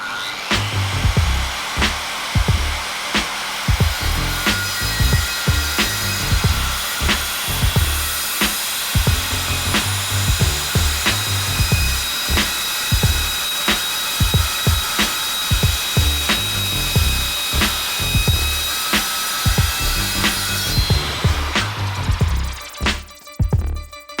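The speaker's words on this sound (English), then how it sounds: "Then I'm going to run the saw across a bunch more times so that it's easier to chisel out all this material in here." A hand saw cuts repeatedly into wood for a pole lathe build, a steady run of loud, rhythmic rasping strokes at an even pace that goes on for about twenty seconds before stopping.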